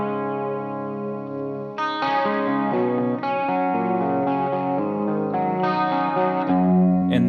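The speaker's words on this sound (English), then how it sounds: "So here's my stereo chorus sound." Electric guitar through a stereo chorus effect on a Quad Cortex, blended with vibrato, plays a slow run of ringing, shimmering chords and single notes at moderate loudness, with no talking.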